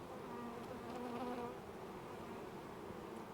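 Many bees fly in and out of a busy hive, some of them carrying orange pollen. Their buzzing forms a steady, loud, close-up drone with no voices over it.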